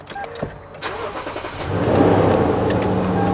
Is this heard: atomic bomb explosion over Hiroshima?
no